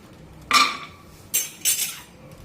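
Almonds drop into a pan of hot ghee, making a few sharp clattering, rattling bursts of nuts against metal, separated by quiet gaps, fairly close.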